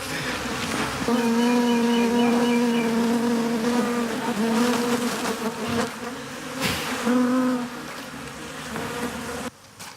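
A loud, close swarm of bees drones continuously, the buzzing pitch wavering and fading slightly toward the end.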